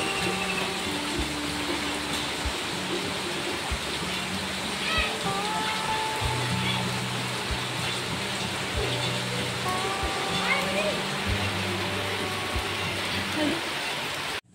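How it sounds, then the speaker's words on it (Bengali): Heavy rain pours steadily through the whole stretch during an afternoon downpour, a dense continuous hiss with scattered patter, while voices talk over it. "এখন দুপুর 3টে বাজছে আর কত বৃষ্টি হচ্ছে দেখুন"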